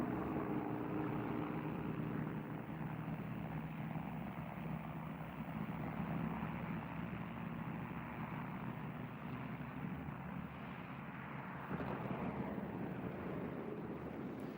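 An RAF Lancaster bomber's engines give a steady, full-bodied propeller drone that runs unbroken for about fifteen seconds with some wind rumble, and no voices are heard.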